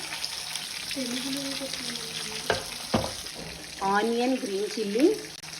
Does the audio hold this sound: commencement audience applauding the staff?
no